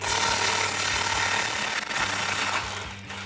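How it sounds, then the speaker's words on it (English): A ratchet with a 15 mm deep socket loosens the exhaust flange nuts on a 2019-2020 RAM 1500, giving dense, fast clicking under a broad metallic noise, close and steady. "For this, I'm using a 15 millimeter deep socket."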